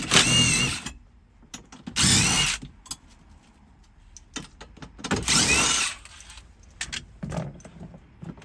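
Hand tools work on the airbag mounting of a Chevrolet Silverado or GMC Sierra interior: three loud bursts of ratcheting and rattling, roughly two seconds apart, separated by quieter clicks, taps and metallic knocks close by.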